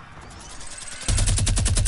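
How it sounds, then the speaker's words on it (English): Automatic gunfire in a squads battle-royale video game bursts in midway as a rapid, loud string of closely spaced shots, following a quieter stretch of background game ambience. "I could hear the gunshots being fired, though"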